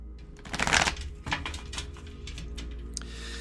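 Tarot cards are shuffled by hand in a close, crisp flurry of riffling and sliding card noises, loudest at the start and then lighter, with no voices.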